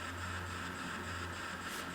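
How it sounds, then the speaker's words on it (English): Faint, steady static hiss from a Bearcat IV Electra base scanner sweeping through channels with no signal, an even low hum running under it. "So unfortunately for me, I get nothing but a little bit of static"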